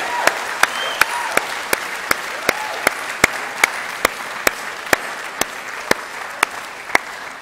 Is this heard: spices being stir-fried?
no